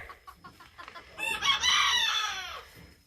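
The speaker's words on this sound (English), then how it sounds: "He's like, I'm the lone rooster." A rooster crows once, close and loud, in a long drawn-out call. It comes after a few soft clucks as the chickens are let outside.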